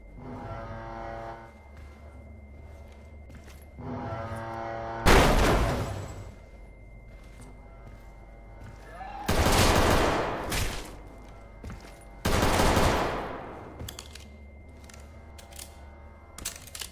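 Gunshots in the video game Limbus Company come as three loud, separate bursts with steady background game sound between them.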